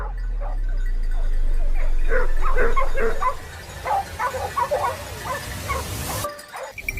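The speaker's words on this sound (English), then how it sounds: "Barely 5 minutes later, their frantic barking echoed ahead" Hunting hounds barking in a dense southern forest during a wild boar hunt, a rapid flurry of yips, barks and whimpers from several dogs, moderately distant with a steady low rumble beneath, thinning to scattered barks before a sudden cut.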